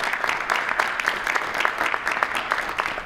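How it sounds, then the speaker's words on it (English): A room full of people at a county legislature press conference claps steadily for a few seconds, a dense patter of applause without pause. "please give Bob a round of applause"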